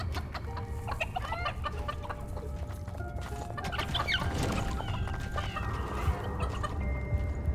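Gobblers, turkey-like creatures in the strategy game Dungeons 4, cluck in a steady scatter of short calls over a continuous low game ambience, with no talking.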